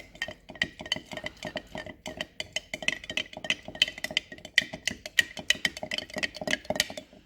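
A metal spoon clinks and scrapes rhythmically against a container while stirring thick Utah crude oil, a steady run of close, bright taps continuing without pause and no voices.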